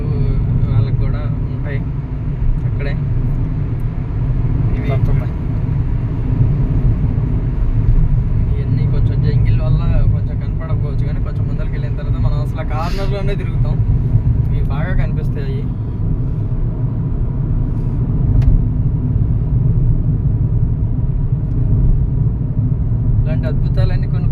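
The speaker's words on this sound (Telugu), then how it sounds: "కారులో తిరుగుతున్నాం" A car driving along a road between the secretariat and the high court in Andhra Pradesh, heard from inside as a steady low engine and road rumble, with occasional rattles and a voice talking over it.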